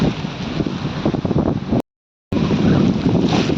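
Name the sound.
strong wind at a hilltop viewpoint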